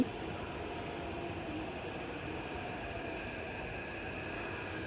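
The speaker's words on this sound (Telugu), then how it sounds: "ఒక సిక్స్ మినిట్స్ వెయిట్ చేసిన తర్వాత మనకు మెట్రో అయితే వచ్చేసింది" A constant low rumble and hiss of a metro train arriving at a station, steady and moderately distant, with no voices.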